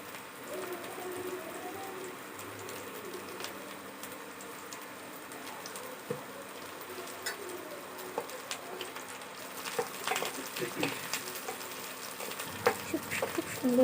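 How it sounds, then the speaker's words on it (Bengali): Onions fry in a pan with a soft, faint continuous sizzle, joined by scraping and clinking of stirring that grow sharper and more frequent toward the end, with no talking. "সুন্দর করে আমি পেঁয়াজগুলোকে ভেজে নেব।"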